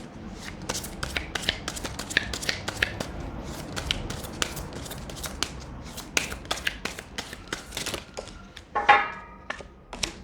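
Oracle cards being shuffled by hand, a steady run of crisp riffling snaps and papery slaps repeated over and over, close and fairly quiet, with a sharper flurry of card clicks near the end.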